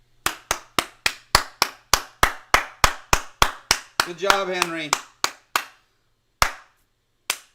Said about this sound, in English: The golf clap.